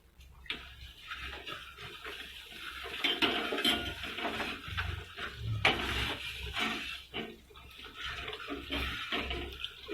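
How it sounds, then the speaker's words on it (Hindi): Ghee is poured into a pan for besan mesub, a soft continuous liquid pour mixed with light clinks of metal utensils and cookware, close and fairly quiet. "अब अपन घी पधरावे को शुरू करेंगे।"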